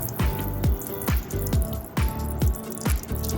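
Water runs from the shower of a Weinsberg Carabus campervan as a steady, close, loud hiss with regular throbbing pulses about twice a second, with no one speaking.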